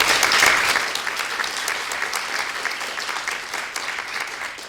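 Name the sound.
audience applause for debate teams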